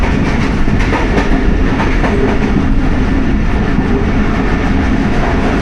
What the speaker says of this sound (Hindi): जी तूफ़ानी रफ्तार 47 up through pass Gujarat railway station.